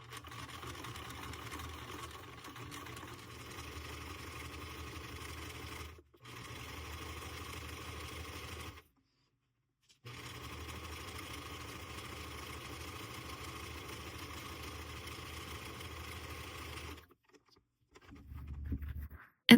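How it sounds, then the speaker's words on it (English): A sewing machine stitching around the edge of a fabric coaster made from fabric strips, a steady close mechanical whir running in long stretches, with short stops and a final start-up. "I'm just going to sew my final stitch around the outside"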